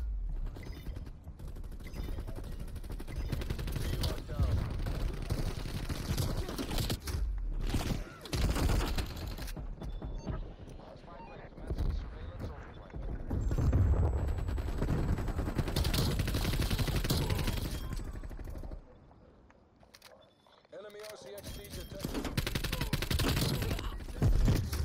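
Gunfire from a DMR in Call of Duty: Black Ops on the Nuketown '84 Holiday map, made up of sustained loud bursts mixed with mechanical clatter and broken by a brief quiet gap.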